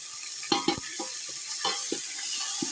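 Chicken with ginger garlic paste fries in a pot for Kabuli pulao, with a constant sizzle and repeated short scraping stirs of a spoon, close and clear, and no voices.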